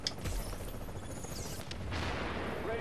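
Grenades explode in The Division's Dark Zone amid bursts of gunfire, a rapid cluster of loud blasts and cracks at the start followed by a rumbling, ringing aftermath.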